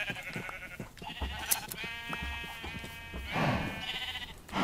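Several sheep bleat in the blocky sandbox game Minecraft, a string of wavering, nasal cries at moderate volume that overlap one another and stand alone with no talking.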